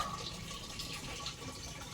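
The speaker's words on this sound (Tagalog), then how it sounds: "Nagkarga naman ng tubig." Sharp automatic washing machine drawing in water, a faint steady hiss and trickle of filling water running continuously with no voices.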